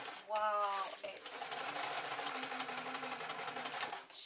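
A sewing machine stitches a cloth bean bag filled with rice. It runs as a steady, fast mechanical whir. A short voice is heard at the start, and the close, continuous hum lasts about four seconds.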